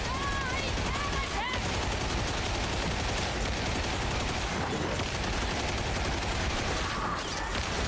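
Dense, continuous gunfire in Warhammer 40k Darktide as a Zealot fights, a loud unbroken rattle of shots with faint voices underneath.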